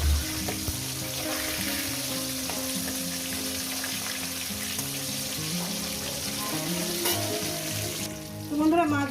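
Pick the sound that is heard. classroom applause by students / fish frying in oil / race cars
fish frying in oil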